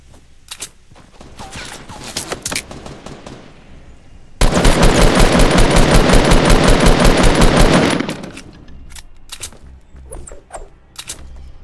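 Rapid automatic gunfire in the Fortnite Battle Royale video game rattles loudly in one sustained burst of about three and a half seconds, with scattered single shots and clicks before and after.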